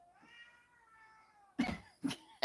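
A pet cat wanting to go outside gives a faint, drawn-out meow indoors, followed by a few short, sharp, louder bursts toward the end.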